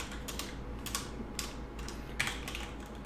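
Quick keystrokes on a computer keyboard while JavaScript code is entered, a few sharp clicks over a steady low room hum, fairly faint and alone without talk.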